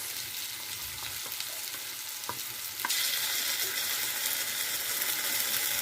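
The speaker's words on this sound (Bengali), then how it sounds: "আলুগুলো দিয়ে আবার একটু ভালো করে কষিয়ে নেব।" Potato pieces sizzle as they are sautéed with spices in a pan, with a few sharp spatula clicks and scrapes against the pan before the frying hiss grows louder and steady.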